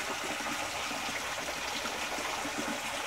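Creek water flowing outdoors, a steady soft rush and trickle of running water, continuous and moderately quiet with no voices.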